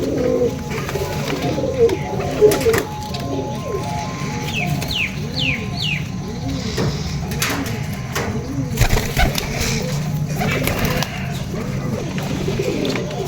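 Baby and adult pigeons coo steadily and close by, soft repeated coos running throughout alongside other bird calls and ambient background noise.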